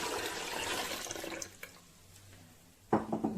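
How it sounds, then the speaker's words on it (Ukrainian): Water is poured into freshly brewed rye malt for homemade kvass in a kitchen, a steady splashing pour filling the first seconds, then a quiet pause and a brief second burst of liquid near the end. "Ось житній солод заварився, і я додаю туди решту води."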